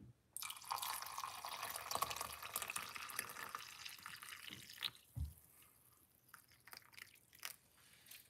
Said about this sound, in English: Pour some hot water.